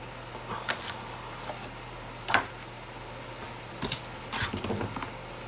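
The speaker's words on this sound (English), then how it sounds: "So this needs to be trimmed down just a little bit." Scissors trim scrapbook paper in a few short, crisp snips close by, spaced apart over a faint steady background hum, with no talking.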